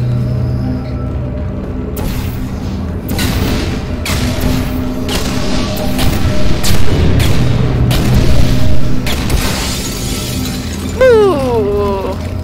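Explosions go off in the Portal 2 video game, a string of sharp, loud bursts spaced about a second apart over a steady mechanical hum, with a warbling tone near the end.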